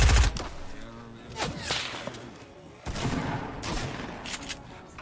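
Gunfire in a Fortnite match: rapid, sharp cracking shots in scattered bursts, some close and some farther off, with whipping whooshes over a continuous game background and no talk.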